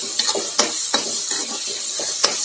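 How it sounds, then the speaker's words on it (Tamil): Tomatoes, onions and green chillies sauté in a pan for paneer bhurji, a soft steady sizzle punctuated by about half a dozen quick, evenly spaced stirring scrapes close by, with no one speaking. "தக்காளி நல்லா வதங்கி வரணுங்க"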